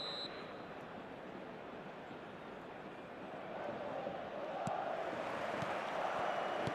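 Stadium crowd noise from the eFootball video game, a broad, continuous far-off roar that swells slightly louder toward the end, with no voices standing out.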